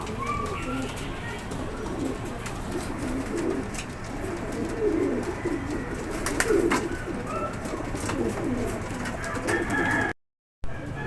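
A racing pigeon coos in a steady, low, rolling murmur, fairly close, over a busy outdoor background with other birds faintly audible, ending in a brief cut to silence.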